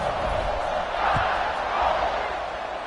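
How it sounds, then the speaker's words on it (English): Stadium crowd in the College Football 26 video game roars steadily before a kickoff, a broad continuous cheer with slight swells and no clear individual voices. "They're set to kick it off, and this crowd now ready to get behind them."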